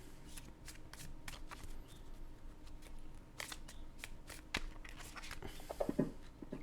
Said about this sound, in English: The cards have been shuffled.